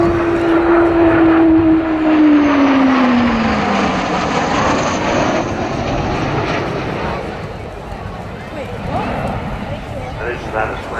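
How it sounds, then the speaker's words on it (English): A Hawker Hunter and an English Electric Canberra, powered by Rolls-Royce Avon jet engines, fly past together at an RAF airshow, a loud roaring jet drone with a falling whine that slowly recedes, while a commentator talks over it. "Canberra's engine's a bit more powerful than the Hunter's."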